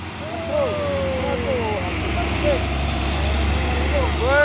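A Hino truck passes on a busy road among other traffic, its engine rumble and tyre noise steady throughout, with horn-like tonal sweeps and someone talking over it.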